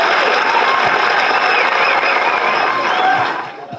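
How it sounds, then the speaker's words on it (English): Crowd at a political movement gathering in Delta State breaks into dense, loud applause, a thick continuous roar of clapping that holds steady before tapering at the end. "A round of applause for him."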